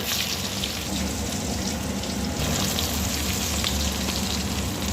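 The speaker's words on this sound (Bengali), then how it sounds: "এরপরে আলুগুলো ভেজে নেওয়া হবে অল্প অল্প করে" Potato pieces fry in oil in a wok with a busy, rain-like crackle and hiss that stays constant and close, with no talking.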